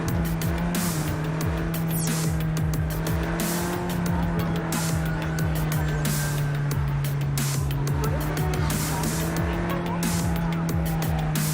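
Car in Cyberpunk 2077 driven hard, engine droning at a steady pitch with repeated tire squeals and skids through turns, loud and continuous throughout.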